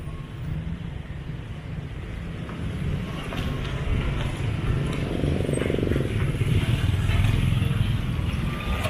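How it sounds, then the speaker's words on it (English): Busy street traffic in Siem Reap, Cambodia, a steady broadband rumble of engines passing nearby that swells slightly toward the end, with no talk over it. "Just wait for a break in the traffic"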